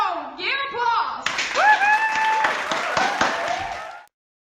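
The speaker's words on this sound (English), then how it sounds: "Give applause!" Studio audience applause from a television show breaks in after about a second and carries on steadily, mixed with voices and excited speech, then cuts off abruptly near the end.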